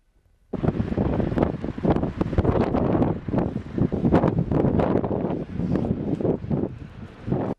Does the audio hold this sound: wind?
yes